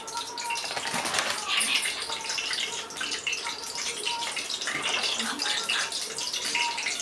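Cooking oil in a pan, heated for frying ready-made french fries, gives a steady, dense bubbling sizzle that runs without a break.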